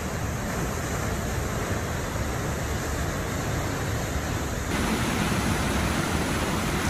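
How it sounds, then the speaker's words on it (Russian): Glacier-fed waterfalls near Mount Rainier in Washington roar as a steady, dense rush of falling water, constant and fairly close, with no voices. "Здесь много водопадов. Горы, ледниковая вода."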